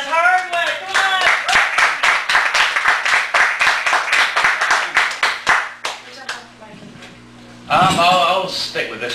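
A small café-gallery audience in Chicago claps for a poet's feature set at a cabaret-style reading, brisk close-range clapping mixed with cheering voices, fading out before a person starts talking and a short burst of laughter or cheers.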